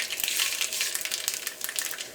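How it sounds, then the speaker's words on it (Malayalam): Urad dal fries with mustard seeds in hot coconut oil, a close, steady sizzle peppered with crisp pops and crackles, continuous and moderately loud with no talking. "ഇതിലേക്ക് ഉഴുന്ന് ചേർക്കാം."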